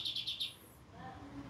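A white-rumped shama (murai batu) gives four quick, bright, high chirps in a row, then falls quiet against faint background noise.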